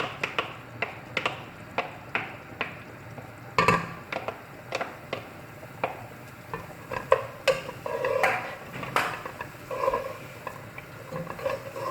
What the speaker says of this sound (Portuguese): E vamos refogar as 2 cebolas cortadas em cubinhos.